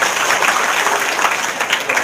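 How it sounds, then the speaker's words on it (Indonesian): An audience applauding at a live stage event, a dense, even patter of clapping that is loud and sustained throughout. "Tepuk tangan dulu dong."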